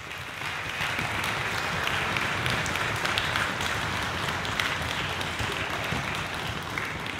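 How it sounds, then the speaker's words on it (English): An audience at a high school spring concert applauds steadily, a dense, even roar of clapping sustained throughout at moderate distance. "Let's give her a big round of applause."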